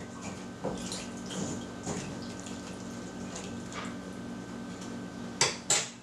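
A spoon stirs half and half and milk into a pot of homemade potato soup, giving soft scraping and clinking against the pot with a few sharper metallic knocks near the end, no voices.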